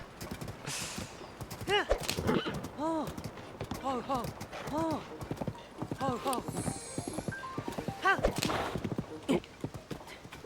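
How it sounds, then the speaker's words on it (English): A horse gallops in the video game Zelda: Tears of the Kingdom, with rhythmic hoof clip-clops in steady bursts, close and clear, alongside arching tonal game sounds and a brief talking voice. "So, now that we got the horse again"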